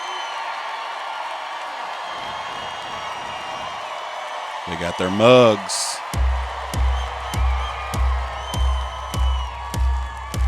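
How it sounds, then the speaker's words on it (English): A live concert crowd cheers and roars at a sea shanty performance by an a cappella group, a broad wash of noise heard through playback under someone talking, followed by singing and rhythmic stomping beats. "Ooh, look at that crowd."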